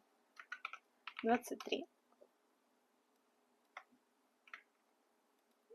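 Scattered keystrokes on a computer keyboard while entering a label in ArchiCAD 27 software, a few quick clusters of soft clicks with long quiet gaps, faint and close, alongside a brief burst of speech.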